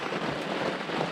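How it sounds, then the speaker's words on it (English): Steady rain drums on the fabric roof of a yurt, a dense, even patter heard from inside, close and moderately loud, with no pauses and no voices. "and it's raining"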